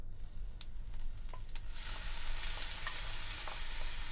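Onions hit hot oil with curry leaves in a pan for a Kerala-style fish curry; scattered crackles swell into a loud, steady sizzle partway through, close up with no talk.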